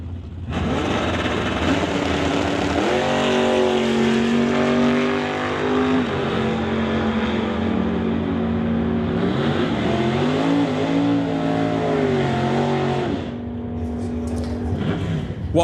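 In a bracket drag race, a '99 Camaro and a Chevy II roar loudly. Engines rev and shift through the gears, and the high-pitched power swells and dips as the cars pull away.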